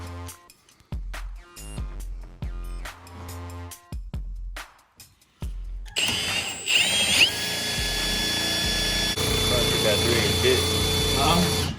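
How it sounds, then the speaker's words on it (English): A power drill bores into a fish finder cover, a loud sustained whine that starts partway through and runs steadily to the end, preceded by someone talking. "we're gonna go ahead and use it, drill it in there, screw it, and it should be good to go."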